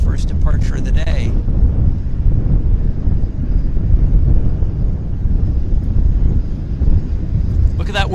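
A departing airliner roars as a broad, steady rumble at Vancouver Airport, mixed with gusty wind buffeting the microphone in strong winds.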